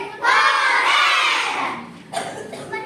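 A group of children shout hooray together in a classroom, one loud drawn-out cheer followed by a shorter, weaker burst of voices.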